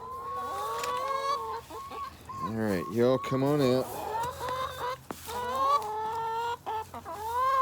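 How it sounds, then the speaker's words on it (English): A small backyard flock of hens — Dominiques, a Barred Rock, Cinnamon Queens and Rhode Island Reds — clucks and squawks steadily up close around a hand-built coop, with a brief spoken call mixed in. "We got 2 Dominiques, a Barred Rock, 2 Cinnamon Queens, and 2 Rhode Island Reds."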